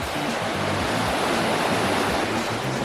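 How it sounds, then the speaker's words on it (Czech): Ocean waves rolling onto the Tenerife coast make a steady, loud, broadband roar that continues without a break and carries no voices. "Ty vlny."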